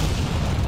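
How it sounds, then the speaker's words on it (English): A grenade goes off in Battlefield 2042, a single loud, close, booming blast that fills the brief moment with heavy low rumble. "Ow, grenade."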